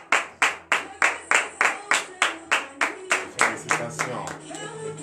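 Rhythmic clapping from a church congregation at a Benin morning prayer service, a steady run of about fourteen loud, evenly spaced claps that blur into looser applause near the end, with faint voices beneath.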